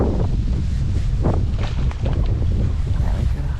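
Steady wind blows across the mic at a fishing lake, a loud continuous rumbling buffet that never lets up.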